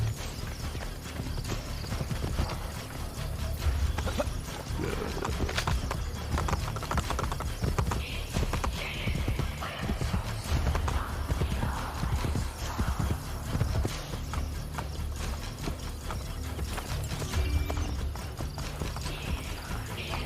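Horse hooves clip-clop steadily in Assassin's Creed Brotherhood, a continuous rhythmic trot over dense game ambience and music, with a brief whinny.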